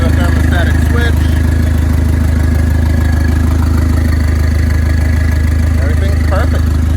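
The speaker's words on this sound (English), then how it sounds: "Fans are on thanks to the thermostatic switch." A Starquest engine runs steadily with its thermostatically switched cooling fans on, a loud continuous drone and whir held close throughout with no change in pitch.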